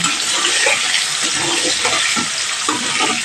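Potatoes rubbed with salt and turmeric fry in hot oil for a hilsa fish curry, a loud, rushing, watery crackle that fills the whole stretch, close and steady, with no talking.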